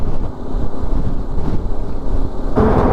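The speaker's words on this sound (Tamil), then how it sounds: "ஒரு காற்று அப்படியே தள்ளுதுங்க" Strong wind buffets a motorcycle rider on the road, a loud, steady rumbling roar of gusts against the microphone that surges briefly near the end.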